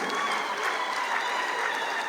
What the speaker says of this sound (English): Can we have another round of applause as he walks to the stage?